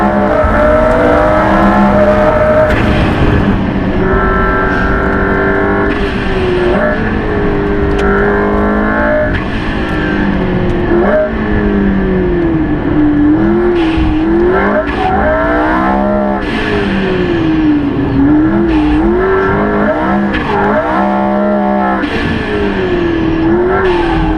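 A McLaren P1 supercar driven at speed, its loud engine note repeatedly rising and falling through gear changes and throttle lifts, with occasional tyre noise, heard close and uninterrupted by talk.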